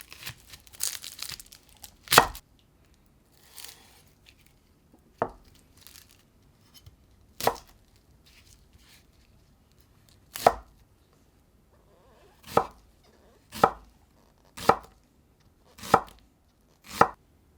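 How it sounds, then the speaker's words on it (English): Half an onion sliced with a knife on a cutting board, about a dozen crisp separate cuts, spaced unevenly at first and then coming in a quicker steady rhythm, close and clear with quiet gaps between. "Slice the onions."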